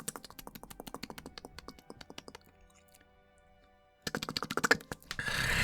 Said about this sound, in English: Someone's clicking a pen in there.